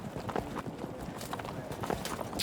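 Horse hooves of mounted horse archers on a battlefield in the strategy game Field of Glory 2, a busy patter of clip-clop beats under steady talk, with a brief whinny.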